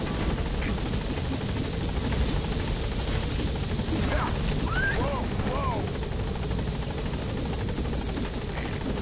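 Helicopter Pequod from a video game hovering near a blocked landing zone: a steady, loud rotor drone throughout, with a few brief whistling tones and faint radio-style speech mixed underneath.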